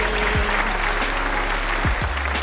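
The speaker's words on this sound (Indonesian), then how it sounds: "Tepuk tangan untuk Kaila" Classroom applause for a student named Kaila during a fifth-grade micro-teaching lesson, a short steady patter of clapping from a small group with a couple of brief vocal sounds over it.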